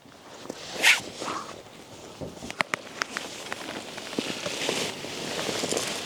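A zipper is drawn around the sides of a Featherlyte AIRCREST rooftop tent on a camper van, giving a sharp opening rasp and then a series of short scratchy pulls and tugs at close range, with no talking.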